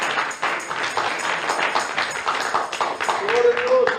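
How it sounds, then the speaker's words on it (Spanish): A church congregation applauds in worship, bursts of hand clapping layered under a preacher's voice, fairly close and moderately loud. "denle una ofrenda de aplauso al Señor"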